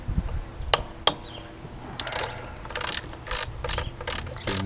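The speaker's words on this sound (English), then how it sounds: "I'm just going to do the two big bolts to get it off." Large front brake caliper bolts being undone with a ratchet on a Zontes 350 GK motorcycle, with sharp clicks followed by bursts of quick ratcheting, close up.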